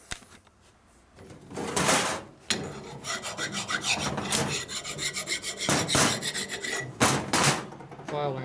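A hand file rasps back and forth across a metal lathe part in repeated strokes, each scrape loud and close with short pauses between passes, and no talking.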